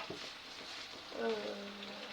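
Steaks frying in a pan make a soft, steady sizzle, with a short scrape and clatter near the start and again about halfway through.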